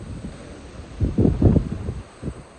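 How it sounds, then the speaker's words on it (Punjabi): Strong dusty windstorm buffets the microphone in heavy, rumbling gusts that swell and fade, loudest in the middle, with no voices. "ਝੱਖੜ ਆ ਗਿਆ ਅੱਖਾਂ 'ਚ ਮਿੱਟੀ ਪੈਂਦੀ ਆ"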